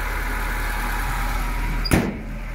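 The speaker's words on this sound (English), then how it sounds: "It picked up idle a little bit because the engine temperature is cold." A 1991 Nissan Datsun D21 4x4 crew cab ute idles while cold, its engine giving a steady, slightly raised low hum close by, broken near the end by a single sharp knock or clunk.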